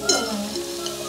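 Fish frying in a pan for a home-cooked family meal, a steady close sizzle with a stirring scrape near the start, continuous throughout with no talking.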